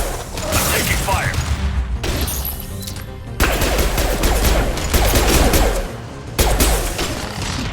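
Gunfire in the video game Mass Effect 2, loud bursts of rapid shots and mechanical clatter in several long volleys broken by short lulls, with a game voice calling out between them.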